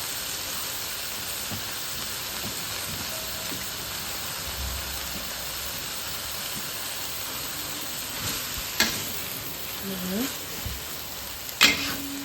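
Water spinach (kangkung) stir-frying in a pan gives a steady, soft sizzling hiss throughout, broken by a few sharp clacks of a utensil scraping and stirring near the end.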